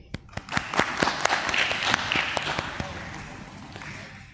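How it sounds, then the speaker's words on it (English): Applause from an audience at a company listing ceremony at the Bombay Stock Exchange, many hands clapping in a steady, dense patter with sharper individual claps near the start, moderately loud indoors. "So let's begin by giving a huge round of applause for being here today."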